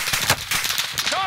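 Gunfire in a multiplayer video game, where rapid bursts of shots crackle in quick succession over a short span.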